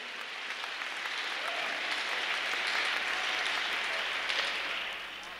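A church congregation bursts into steady, loud applause for Jesus, a dense wash of clapping that swells and then tapers near the end.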